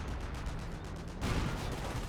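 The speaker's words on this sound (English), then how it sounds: "Artillery coming in again to stop the packs from firing." Artillery barrages pound the battlefield in the Company of Heroes strategy game. A continuous, dense rumble of explosions swells into a heavier burst partway through, with no voices.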